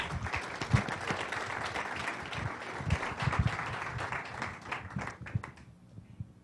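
A church congregation claps to welcome a pastor, soft sustained applause with low thumps and murmured voices, tapering off at the end.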